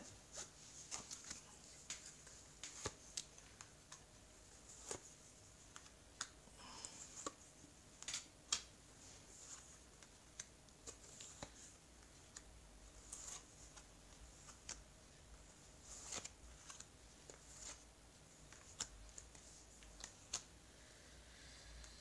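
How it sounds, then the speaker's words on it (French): Tarot cards being spread out across a table, a steady run of soft dry slides, flicks and light taps close by, with no talk over them. "Alors, je vais étaler les cartes."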